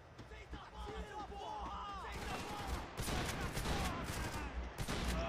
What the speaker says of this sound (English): Seems though this shotgun just completely wrecks